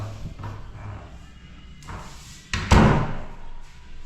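A newly installed master bedroom door in a house under construction closes with a firm, loud slam-like thud partway through, preceded by softer knocks and handling noises at close range.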